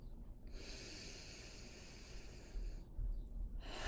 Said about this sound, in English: So let's take a breath together first.